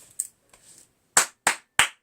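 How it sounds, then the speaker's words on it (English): Three crisp hand claps, close and evenly spaced near the end, preceded by faint softer taps and rustling in an otherwise quiet room. "Clap 3 times."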